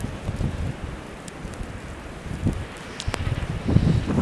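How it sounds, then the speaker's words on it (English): Strong wind of about thirty miles an hour during a winter snowstorm in Maine at dusk blusters against the microphone in uneven gusts, with rustling trees and faint scattered clicks. "The wind is about 30 miles an hour."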